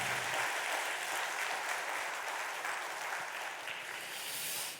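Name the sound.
congregation applause in a church service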